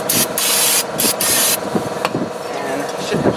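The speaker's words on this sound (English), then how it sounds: "Spray it down one more time" Cleaner sprayed onto the front wheel hub parts of a 2001 Buick LeSabre during a hub bearing replacement, in several sharp hissing bursts near the start, followed by quieter scraping and handling noises.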